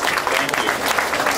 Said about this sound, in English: I just want to give everybody a round of applause